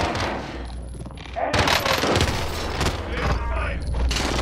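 Gunfire erupts in a Call of Duty: Warzone fight, dense bursts of shots and booming impacts layered under voices talking over them.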